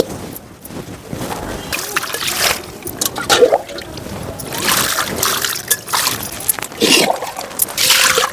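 Water splashing and sloshing while carrots are washed for gajar halwa, with irregular bursts of trickling and splatter at close range and quieter gaps between them.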